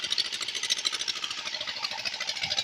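A village engine, likely driving a tubewell, runs steadily with a rapid rhythmic chugging pulse, close and fairly loud throughout with no talk.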